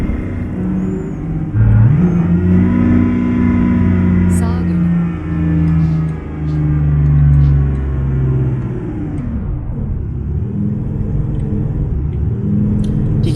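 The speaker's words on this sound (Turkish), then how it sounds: "Yani bu kadar bağırmaz bir arabanın motoru." Engine of a 2022 BMW M4 G82 Competition car rated at 544 horsepower, driven in the game Euro Truck Simulator 2, a steady loud droning rumble with a rise in pitch mid-way that eases off toward the end, under talk.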